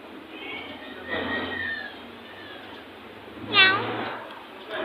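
A cat in a Chinese garden gives a couple of short meows, one near the start and a sharper one later, faint against quiet outdoor background hiss.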